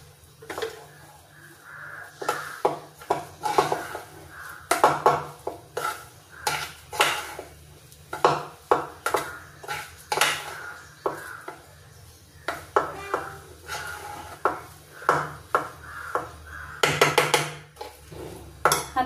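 Sugar syrup and boondi for motichoor laddu are stirred in a metal vessel, giving a run of irregular scraping and clinking spoon strikes against the pot, close and fairly loud, with brief pauses between bursts.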